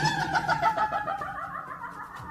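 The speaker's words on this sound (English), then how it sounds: "This door sounds like a witch, and I'm not even exaggerating" An old door creaks open in a long, high, wavering squeal with a shrill, cackling, voice-like quality that rises and falls for a couple of seconds, then fades.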